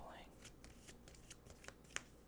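Yu-Gi-Oh! trading cards are shuffled by hand in a quiet setting, giving soft close riffling and light flicks with a couple of sharper card snaps near the end.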